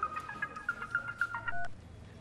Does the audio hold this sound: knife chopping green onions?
no